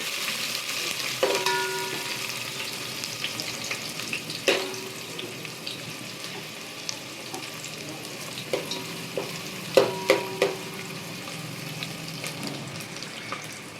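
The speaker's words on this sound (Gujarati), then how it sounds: "ડુંગળી સહેજ લાલ જેવી થાય ત્યાં સુધી આને શેકવાનું." Onions frying in a pan for a Gujarati taro-leaf bhajiya recipe: a steady, moderate sizzle throughout, with several sharp clinks and knocks of a utensil against the pan, heard up close without speech.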